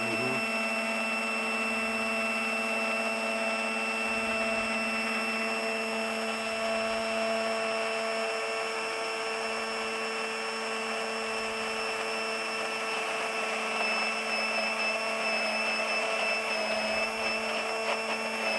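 A stick blender whirs steadily through Greek yogurt mayonnaise, a constant motorized hum with a high whine that shifts slightly in pitch as the mix thickens, close and unbroken with no voices.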